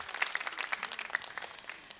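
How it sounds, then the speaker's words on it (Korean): Brief audience applause at an amateur singing contest, a light scattering of claps with a few crisp louder hits, fairly soft and fading toward the end. "박수 부탁드려요"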